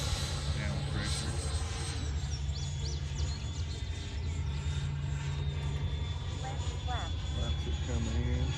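A Freewing F-5 80mm electric ducted-fan RC jet whines steadily overhead on its maiden flight, a continuous engine roar with rising and falling pitch as it passes, a voice speaking over it at times.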